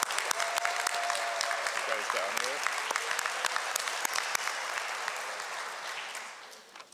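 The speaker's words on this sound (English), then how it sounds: "Please join me in a round of applause." A high school graduation crowd applauds steadily in a large venue, dense clapping that fades toward the end, with a voice speaking briefly over it.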